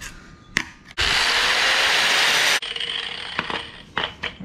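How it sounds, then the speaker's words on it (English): An angle grinder with a cutoff wheel cuts scrap metal in one loud, close, sustained burst of about a second and a half, with brief clanks and knocks of metal handling before and after. "I think we're gonna need a slightly better cutoff wheel for this part."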